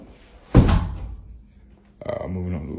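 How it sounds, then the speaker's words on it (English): A door in a house shuts with one loud, close thud, followed by a quieter knock and some rattling as a second door is closed, with a voice speaking over it. "Let me close these doors real quick."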